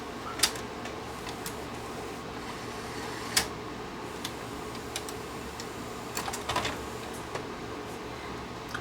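A Sharp VC90 multi-system VCR, fitted with a new belt, ejecting a tape: a steady mechanical whir with scattered ticks and sharper clunks, close and moderately quiet.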